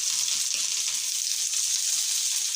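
Dried red chillies frying in hot oil, a steady, bright, continuous sizzle close up and fairly loud, with no voices over it.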